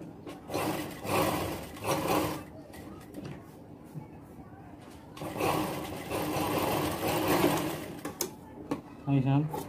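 A sewing machine stitches a baby girl's kurti in bursts of whirring, alternating with quieter pauses, while someone talks throughout.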